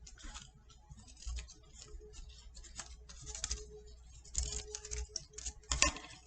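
Scissors trim loose strands from a handmade Halloween craft spider web, giving a quiet run of small irregular snips and ticks close by, with no talking.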